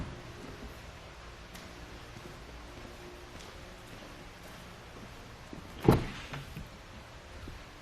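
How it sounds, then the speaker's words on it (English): A 2015 Honda's rear door is opened once near the end, a single sharp latch-and-swing sound standing out from a quiet, steady background with no talk. "We'll start by opening up our two rear doors."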